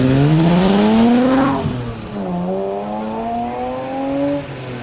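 A 1996 BMW E36 3-litre race car climbs a historic hill-climb course, its engine revving hard and loud, then dropping briefly on a gear change before pulling up again in a strong, rising drone.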